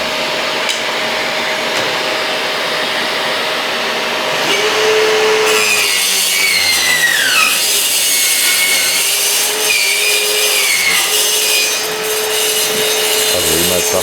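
A jigsaw makes the final cut at the rear of a motorhome during installation work, a steady loud rasping buzz with shifting whine that runs for most of the stretch, with a brief lull near the end.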